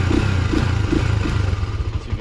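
A buggy's small engine putters in an idle with rapid regular pulses and a rattling clatter, close and fairly loud in a big backyard, with no talk over it.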